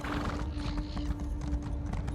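Horse hooves clip-clopping steadily in Elder Scrolls Online Morrowind, a continuous rhythmic trot with occasional whinnying, close and moderately loud over a constant low game ambience.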